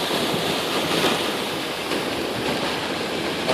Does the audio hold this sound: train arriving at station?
no